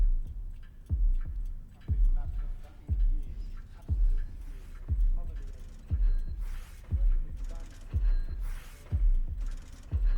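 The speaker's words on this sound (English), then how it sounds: "And there are the ticking clocks." Ticking clocks from Pink Floyd's Dark Side of the Moon, faint mechanical ticks layered over a continuing deep heartbeat thud that repeats roughly every second, with brief brighter clicks and hiss bursts toward the end.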